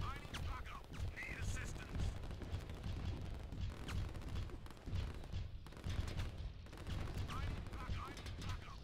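Artillery and infantry gunfire in a strategy video game battle: busy overlapping shots and booms, fairly faint and continuous, with a voice talking over the fighting.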